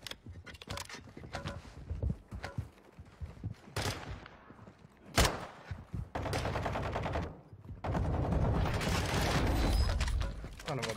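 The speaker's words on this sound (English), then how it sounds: "Taking effective fire!" Gunfire in Call of Duty Warzone 2.0, with close sharp shots and rattling automatic bursts coming in uneven clusters, some longer sustained stretches, loud and busy throughout.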